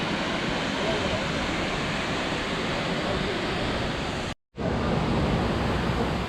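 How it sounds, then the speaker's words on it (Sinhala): Bomuru waterfall near Nuwara Eliya, Sri Lanka, pours in a steady, loud, broadband roar, with one brief dropout before the rush resumes. "මේ තියන්නේ බොයිස් බෝමුරු ඇල්ල."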